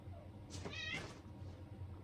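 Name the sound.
cats meowing while fighting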